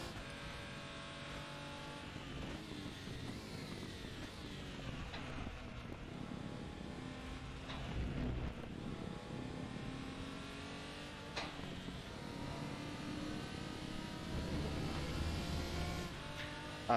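A Lotus GT4 race car in the RaceRoom racing game drones continuously, its engine pitch rising and falling through gear changes at a moderate, steady level with no talking.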